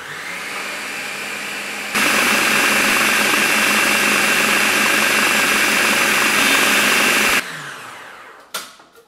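A food processor blitzes dark brown sugar and caster sugar, a loud steady whirring roar that starts abruptly, runs for several seconds close by, then cuts off and winds down, with no talk.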